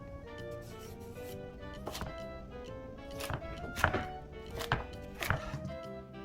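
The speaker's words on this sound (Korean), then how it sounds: "먹기 좋은 크기로 썰어줍니다" A knife chopping cabbage into bite-size pieces for a mild cabbage water kimchi, with steady close cutting knocks on a board and a few louder thunks near the end.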